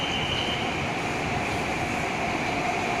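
Continuous rumbling of a BTS Skytrain Green Line train arriving at a station in Bangkok, with a steady hum and faint high whine, like a rail car running close by, no voices.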